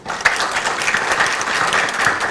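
A conference audience at a product safety forum claps steadily, a dense close burst of applause that holds for a couple of seconds.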